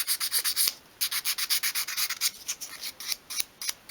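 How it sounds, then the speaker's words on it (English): Sandpaper sweeps front to back over the edge of a miniature 1/12th scale wooden Welsh dresser, a close, steady run of quick rhythmic rasping strokes that slows and spaces out toward the end. "I'm sweeping the sandpaper from front to back as well, just to make a nice sort of rounded edge"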